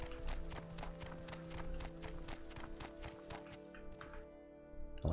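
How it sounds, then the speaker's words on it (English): Footsteps on dirt in the video game Morrowind, a steady rapid series of soft thudding steps in even rhythm, close and moderately loud over a low background hum, stopping near the end. "You hear those little dirt steps."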